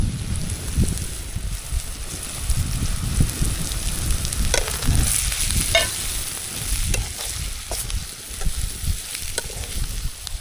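Crabs sizzling and being stirred in a pan of masala with chili powder, onion masala, garam masala and turmeric at a night camp beside a dam, a loud continuous fry with scraping stirs and some wind rumble.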